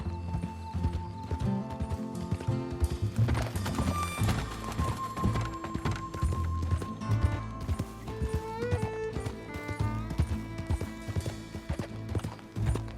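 Horse hooves clip-clop at an easy walking rhythm in the Red Dead Redemption 2 video game, with an occasional whinny, over soft background music.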